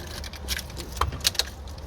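Car keys jangle and click briefly as a key goes into the ignition of a 2005 Scion xB, a few light metallic clinks close by in a quiet setting.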